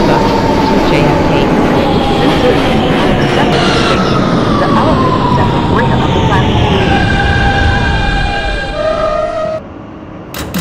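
An R160 Siemens subway train in the OpenBVE simulator, running as a Manhattan-bound E express, rumbles loudly with rising motor whine, a high tone sliding upward near the end before it eases off.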